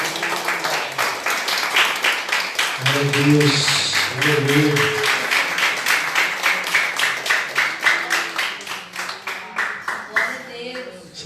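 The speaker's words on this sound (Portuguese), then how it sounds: "Aplauda o Senhor nessa noite por essa palavra." A church congregation applauds during a worship service, with dense rhythmic clapping and shouted praise throughout.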